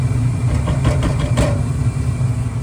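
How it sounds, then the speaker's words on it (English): A furnace blower fan runs in a steady loud, low whir with a constant hum, close by, with a few faint clicks early on and no talk. "oh, there's our blower"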